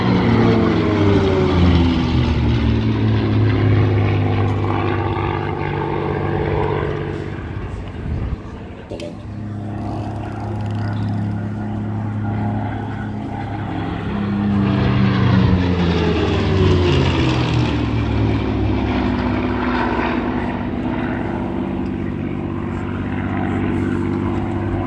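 A PC-21 propeller aircraft makes a loud, steady flyby at an aviation museum airshow, its engine drone rising and shifting in pitch as it passes close, with a commentator talking throughout.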